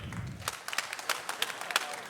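A live audience at a podcast taping in Gillette clapping, with a scattered patter of individual claps and small bursts spread unevenly over a couple of seconds after a brief low rumble.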